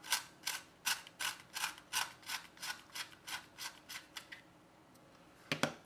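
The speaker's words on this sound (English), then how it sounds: "let me go ahead and start with the Absera Beauty. We'll go ahead and sharpen that." An Apsara Beauty pencil is sharpened in a handheld standard-point sharpener, giving a steady run of about a dozen rhythmic scraping, grinding turns, close and crisp, then a pause and a couple of final twists.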